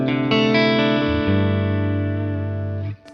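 An electric guitar through a Vox amp's normal channel at half volume, a few chords struck and left ringing in a full, slightly gritty sustain that slowly fades before a final pick scrape.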